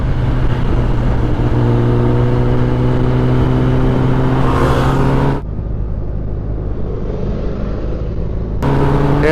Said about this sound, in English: Yes, that's a Ducati Panigale 959.